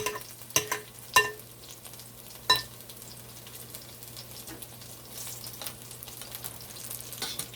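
Saltfish cod fritters fry in a pan with a steady low sizzle, broken by a few sharp clinks and scrapes early on as they are turned, then a softer bubbling hiss toward the end.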